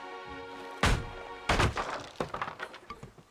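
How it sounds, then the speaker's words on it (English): A trap being destroyed in Dead by Daylight Mobile makes two sharp breaking thunks followed by a few smaller clattering hits over steady background game music. "she destroyed my trap."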